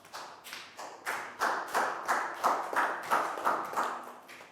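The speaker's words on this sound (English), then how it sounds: "High five and a big round of applause for Prau." Classroom applause for a student: a rhythmic group clapping pattern of repeated bursts, moderately loud and fairly close, with no talk over it.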